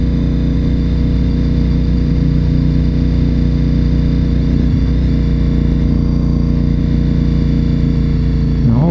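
A motorcycle rolls downhill in first gear with the throttle closed at about 51, its engine drone steady, loud and continuous throughout, with a brief dip near the end.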